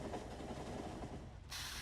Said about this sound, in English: There is a stone train coming.